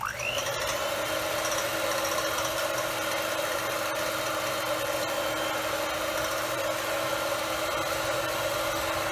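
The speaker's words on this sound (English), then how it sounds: "Now we'll start by beating our cream, preferably with a whisk attachment on a hand mixer." A hand mixer fitted with a whisk attachment beats cream at high speed, a loud, steady motor whine that holds evenly and closely throughout with no pauses.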